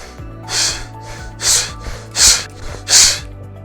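A person with COPD doing a breathing exercise takes four strong, audible breaths in a steady one-to-one rhythm, each a loud airy rush close to the microphone, with soft gaps between them.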